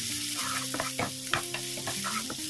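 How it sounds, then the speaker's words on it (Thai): Sliced shallots sizzle steadily in hot oil, a constant crackling fry with occasional stirring clinks and a faint tonal hum underneath. "เมื่อน้ำมันร้อนก็นำหอมซอยที่เราซอยไว้นะคะ ลงไปเจียวให้หอมนะคะ"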